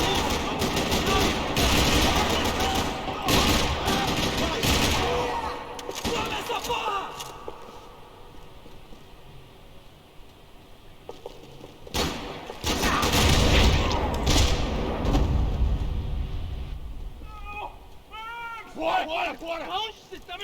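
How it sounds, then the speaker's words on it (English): Gunfire in the Max Payne 3 video game during a parking lot shootout, dense rattling bursts mixed with game speech and effects, loud throughout with a quieter stretch in the middle. "Another parking lot rattling with gunfire."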